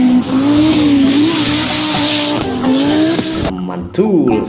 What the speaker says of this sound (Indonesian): Yang ini mobil balap.